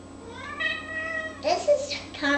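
A cat meows several times indoors, drawn-out tonal cries rising and falling close by, with a voice chattering over the later part.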